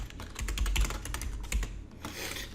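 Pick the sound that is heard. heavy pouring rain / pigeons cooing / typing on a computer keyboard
typing on a computer keyboard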